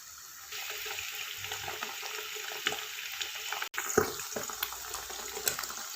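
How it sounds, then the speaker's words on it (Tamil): Beaten eggs fry in hot oil in a pan while chicken fried rice is cooked, giving a steady close sizzle broken by a few brief clatters and scrapes. No one speaks. "2 முட்டை பீட் பண்ணி வச்சுருக்கேன், அதை வந்து இந்த எண்ணெயில் சேர்த்து நல்லா வறுத்துக்கலாம்."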